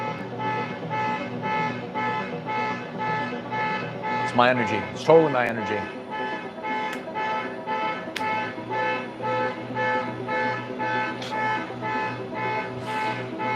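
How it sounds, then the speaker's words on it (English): A blaring car alarm cycles through repeating electronic tones, loud and steady, while a person talks over it close by. "Set car alarms off."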